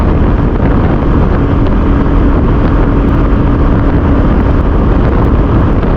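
A 2021 Royal Enfield Classic 350 BS6 motorcycle at wide-open throttle during a top-speed run, a loud, steady engine roar heavily mixed with rushing wind noise throughout.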